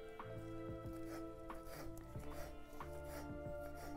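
A knife chops a wild leafy vegetable on a board in quick, even close-up strokes over a steady background hum.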